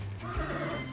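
An injured horse being treated whinnies once in a short, close, loud neigh over a low background hum.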